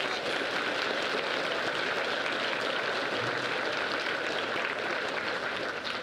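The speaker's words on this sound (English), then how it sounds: "Please give a round of applause for our recipients." Sustained applause from an audience honoring underclassman award recipients at a high school awards ceremony, a dense steady wash of many hands clapping at even loudness throughout.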